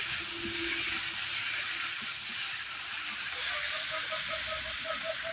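Potatoes with ginger, garlic and coriander paste sizzle in a pan while being stirred, a constant loud frying hiss with occasional scraping and a soft whistling tone near the end, no voices.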